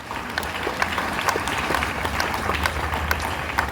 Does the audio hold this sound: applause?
yes